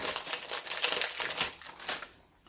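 Packaging of a minimalist photo frame being torn open up close, a busy run of crinkling, crackling plastic and paper that fades to near quiet at the end.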